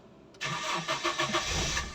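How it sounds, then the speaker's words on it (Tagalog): A Toyota Tamaraw FX engine cranking briefly and then catching, settling into a loud, rough, uneven idle with pulsing throb, heard close by and without speech. "Pag start, sabay apak, umandar na yung makina."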